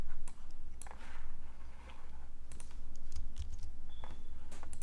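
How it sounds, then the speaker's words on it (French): Typing on a computer keyboard, a quick irregular run of light clicking keystrokes close by over a low steady hum, with no voices. "Je tape l'URL de cette page d'index dans un navigateur web."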